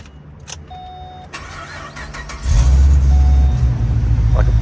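A Holden SS wagon car engine cranks over with a short whirring starter, then catches and settles into a loud, deep idle rumble heard close up.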